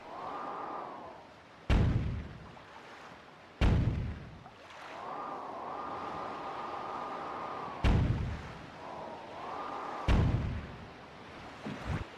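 Cannon blasts used as effects for a boat build edit: four sharp, booming shots spaced a few seconds apart, each a loud thump with a short rumbling tail, separated by a sustained tonal sound.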